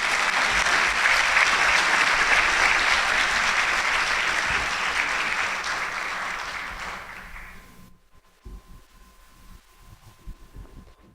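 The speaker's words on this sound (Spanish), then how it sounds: "Pues démosle un aplauso al doctor Ángel Díaz Barriga." Audience applause for an invited academic speaker, a dense, loud crowd of clapping hands that holds steady for several seconds, then fades and stops abruptly, leaving a quiet room with faint scattered sounds.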